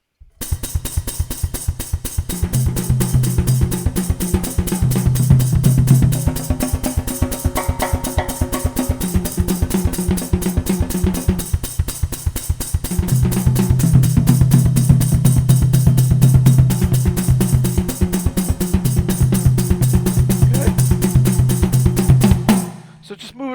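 Drum kit played in a steady warm-up pattern around the toms and kick with a click track ticking underneath, continuous and loud at close range for over twenty seconds, with no talking.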